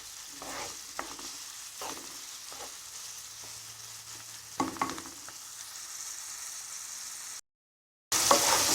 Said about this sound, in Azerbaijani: Soğanları da qızardırıq. Ara bir qarışdırırıq.